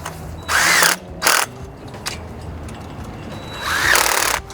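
A power tool drives a nut and bolt into the tension band of a commercial chain link fence outdoors, in three short whirring bursts separated by pauses, close and fairly loud.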